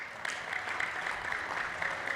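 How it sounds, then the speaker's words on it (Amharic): Congregation applauding in a church service, a steady wash of many hands clapping together, moderately loud and sustained throughout. "አጨብጭቡ።"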